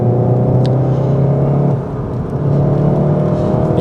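A Cupra 300 pulls hard under acceleration, its steady engine drone and rising whir filling the cabin with a brief dip mid-run as a gear changes, loud and close throughout.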